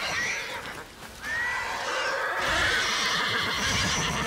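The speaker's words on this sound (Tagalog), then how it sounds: "Yung kabayo, anong gagawin dito sa kabayo?" A horse whinnies and neighs in the video game Ghost of Yotei, a bright, drawn-out call heard clearly and alone, rising again partway through over faint background ambience.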